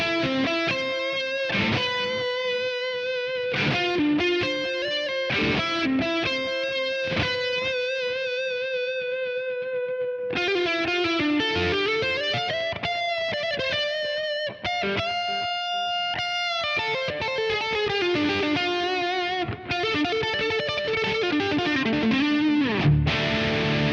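Mayones electric guitar played through its neck pickup with heavy distortion, loud and continuous, mixing sustained chords and melodic lead lines with a warm, somewhat trebly tone and no voices.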